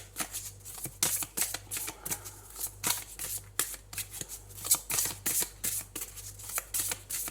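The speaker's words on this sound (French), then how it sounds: "on va prendre une carte de ce joli oracle de la forêt sacrée" Cards of a sacred forest oracle deck being shuffled and handled close up, a steady run of soft riffling flicks and papery snaps with a faint hum underneath.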